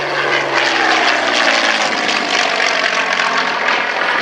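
A Yakovlev Yak-3 WWII fighter flies past at a military pageant airshow, its propeller piston engine a loud, sustained droning roar throughout.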